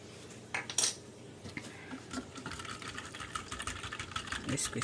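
Wet ingredients with lime juice whisked in a bowl for a Jamaican ginger bulla cake, a close, rapid clinking and scraping of utensil against the bowl that grows steadier and continues throughout.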